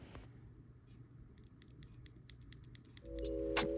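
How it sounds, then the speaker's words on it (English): Keystrokes on a Montech MKey Pro 75% mechanical keyboard with pre-lubed switches and double-shot PBT keycaps, a quick run of light, poppy clicks over a low background hum, with a louder clatter near the end. "the keyboard has more of a poppy sound signature"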